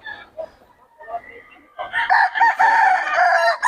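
Roosters and chickens crow and cluck at a poultry market in Bocaue, with scattered quieter clucks at first and then a loud, close crow taking over near the end.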